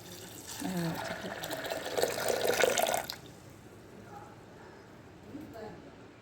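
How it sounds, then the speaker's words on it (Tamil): Water poured from a vessel into a pressure cooker holding black-eyed peas with turmeric and red chili powder, a steady splashing pour for about three seconds that then stops, leaving quiet kitchen background. "தேவையான அளவுக்கு தண்ணி ஊற்றிட்டு"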